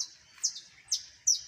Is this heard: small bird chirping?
yes